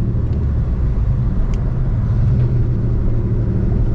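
A turbocharged 3800 Camaro engine strains under boost in fifth gear, a loud, steady low rumble that drones on without a break and with no talk.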